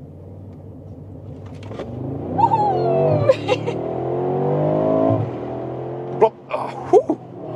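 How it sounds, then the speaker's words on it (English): A Mercedes-Benz G63 engine revs hard in a race-start launch, a rising growling roar that climbs through gear changes before dropping off, with a brief spoken word and exclamations around it. "G63 race start."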